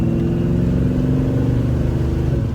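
A 1955 Chevrolet Bel Air with a built 350 small block V8, headers and dual exhaust, idles close by with a loud, lumpy, throbbing rumble that swells slightly near the end, with no voices.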